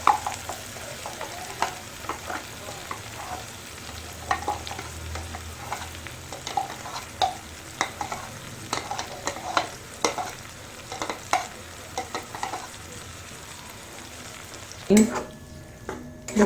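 Spinach paste for palak paneer sizzles quietly in a pan while a spoon stirs it, with soft scraping taps at an irregular pace over a low frying hiss.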